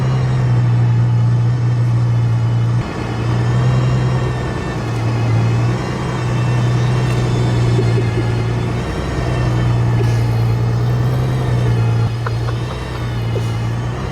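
An Aston Martin Valkyrie Spider drives through snow with a loud, close engine drone. The low rumble pulses in long sustained stretches as the throttle rises and eases off, with the engine clearly in front and no one speaking.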